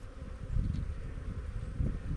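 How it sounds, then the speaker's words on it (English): Honey bees buzz in a dense, steady hum around crowded hive frames, a close continuous drone with no voices. "there's walls and walls and walls of bees here"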